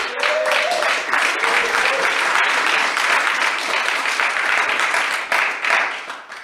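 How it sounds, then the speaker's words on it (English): A room of men at a motivational talk gives sustained applause for the organizer, thick, even clapping lasting several seconds, with a voice briefly heard early on. "Can we give Jimmy a round of applause there?"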